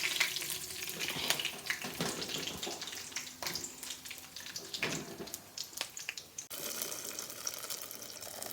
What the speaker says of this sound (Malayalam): കടുകൊക്കെ പൊട്ടിയതിന് ശേഷം നമുക്കിതാ കറിവേപ്പില പൊടി.